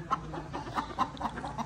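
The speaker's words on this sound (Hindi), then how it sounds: "ये देखें जी हमारी मुर्गियाँ, लगता है किसी मुर्गी ने अंडा वगैरह दिया" Farm hens cluck at a haveli after laying an egg, giving a quick, repeated series of short clucks at moderate distance. The calls are fairly soft, with no speech.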